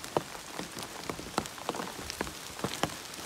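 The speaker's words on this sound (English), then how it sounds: "we're just walking in the rain" Rain falls steadily on a hiker on the Appalachian Trail, with scattered close drops pattering on a surface over a soft, constant hiss.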